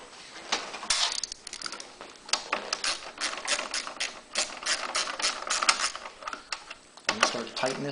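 A ratchet clicks in rapid bursts while tightening a bolt onto the remote control box of a Honda EU3000iS generator, close and crisp, pausing briefly between strokes, with a voice speaking in places.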